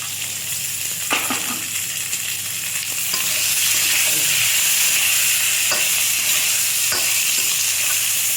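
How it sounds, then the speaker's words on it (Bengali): Aubergine, stalks and potatoes are stir-fried in hot oil, giving a loud, steady sizzle close by with occasional scraping knocks from stirring. "এবার এই বেগুন, ডাঁটা আর এই দু রকম ডাঁটা বেগুন এগুলো আমি তেলে নেড়ে তেড়ে এবার আলুটা দিয়ে দেবো ওর মধ্যে"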